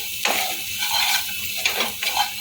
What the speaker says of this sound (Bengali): লবণটা দিয়ে ভালো করে নেড়ে চেড়ে নিচ্ছি